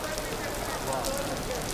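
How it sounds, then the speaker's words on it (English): Steady rain falls in a continuous broadband hiss, dense and even throughout with no distinct drops standing out. "It's the rain."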